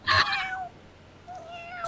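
A human voice imitates a kitten meowing, giving a high, close mew followed after a short gap by a second, softer drawn-out meow.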